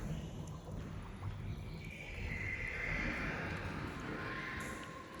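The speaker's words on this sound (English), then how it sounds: "beside her water foamed and roared with a herd of water horses." Horses whinny in a fantasy audio story, a drawn-out neigh rising over a steady rushing roar of foaming water, moderately distant and blended into the ambience.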